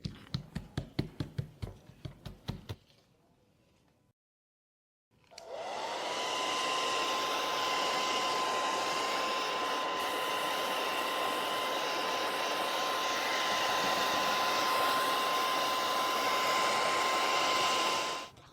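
A handheld hair dryer switches on and blows steadily for about thirteen seconds, drying a coat of diluted metallic chalk paint, after some brief tapping and a short pause of silence.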